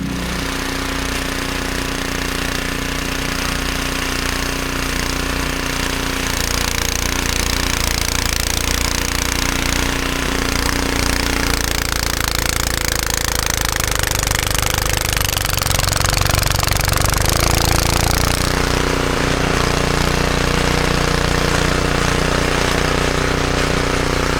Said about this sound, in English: I think that snowblower's warmed up enough, so I'm gonna get over there and we're gonna start snow blowing this driveway off